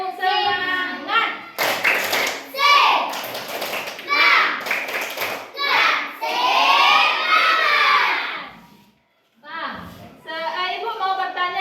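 Schoolchildren in a classroom shout the tepuk semangat clapping chant together, loud rhythmic claps mixed with chanted voices in bursts, with a brief pause near the end before resuming.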